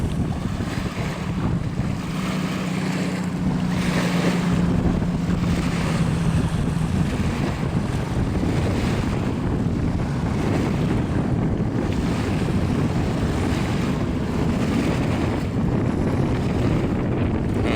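Steady wind blasts across the microphone on an offshore rig at sea, a constant loud roar with broad rumbling noise and waves beneath, no talking heard.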